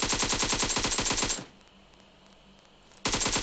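Gunfire in PUBG Mobile: a loud, rapid automatic burst of evenly spaced shots for over a second, a short quiet gap, then another burst resuming at the end.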